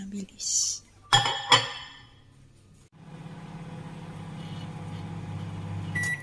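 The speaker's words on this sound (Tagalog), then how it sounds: "Iinit ko na lang sa microwave" A couple of glassy clinks, then a steady low electric hum like a microwave running, ending with a short high beep.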